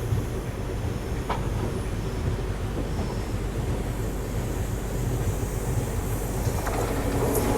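Coimbatore–Rajkot Express hauled by a WAP-7 electric locomotive rolling past near Vadodara, a steady loud rumble of wheels and coaches with faint squeals and clacks throughout.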